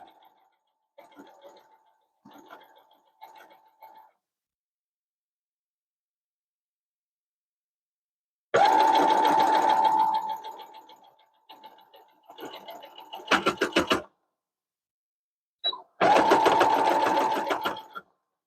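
A sewing machine stitching a seam in stretchy leggings fabric, with a few short quiet stitching bursts followed by longer loud runs of fast, close mechanical whirring and a final sustained burst.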